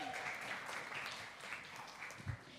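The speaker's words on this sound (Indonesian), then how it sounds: "Tepuk tangan dong." Applause from a youth church service audience, a soft, steady wash of clapping heard at a distance across the whole moment, fairly faint with a small bump near the end.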